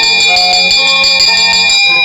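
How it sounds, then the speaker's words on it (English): Shipboard bell rung for attention at a ceremony in a cartoon, a loud continuous metallic clanging with ringing overtones throughout. "Will you please ring the bell to get everybody's attention?"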